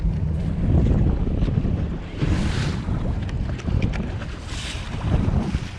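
A boat engine drones low and steady on Lake Michigan off Milwaukee, Wisconsin, during king salmon fishing, amid gusty wind noise and splashing waves.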